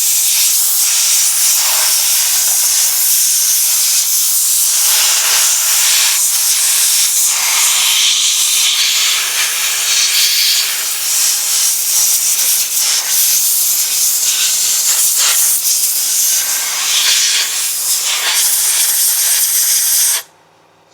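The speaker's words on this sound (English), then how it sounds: "The next step I do is I blow this side off." Compressed air blasting off a chainsaw bar and the sprocket area during maintenance: a loud, steady, close-up hiss with slight fluctuations that runs about twenty seconds alone, then cuts off abruptly.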